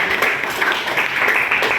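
Applause from a class at an Indonesian training session on prompt engineering, a dense patter of clapping hands lasting under two seconds at moderate level.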